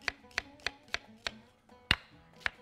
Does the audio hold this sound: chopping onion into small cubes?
yes